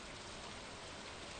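Steady rain in a video game, a dense even hiss of falling drops that stays constant throughout, soft and unbroken with no one speaking.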